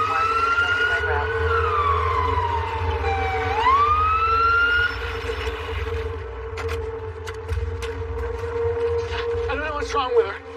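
An ambulance siren wails with a long rising and falling sweep at moderate distance, over steady traffic rumble, then fades as scattered noises and brief sounds follow.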